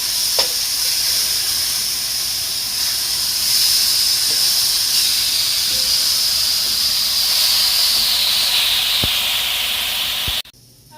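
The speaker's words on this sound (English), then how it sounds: "we just want to brown it on both sides" Pork chops browning in a hot pan, a loud continuous hiss and sizzle holding steady throughout, with a couple of faint clicks, cutting off abruptly at the end.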